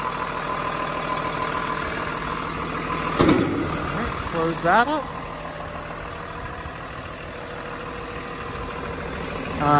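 A 2011 Thomas Saf-T-Liner HDX school bus engine idles smoothly with a steady, even drone, its engine fan whirring behind. Someone speaks briefly over it, with a few clanks midway.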